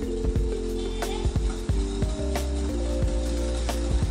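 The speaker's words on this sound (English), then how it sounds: "Keep whisking both of them until all of the sugar is combined." A whisk works curd and caster sugar together in a mixing bowl, giving a steady run of quick ticking and scraping clicks close up, with a faint hum underneath.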